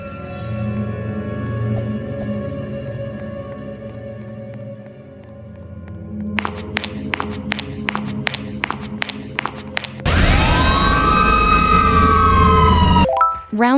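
The Siren Cop monster voice from a video game sounds as a loud electronic siren, with a run of sharp repeated pulses followed by a rising and falling wail.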